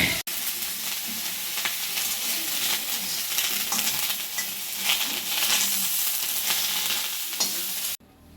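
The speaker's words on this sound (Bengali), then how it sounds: "মা নিম পাতা ভাজছে" Neem leaves frying in a pan give a continuous close sizzle, with stirring scrapes running through it, before cutting off abruptly at the end.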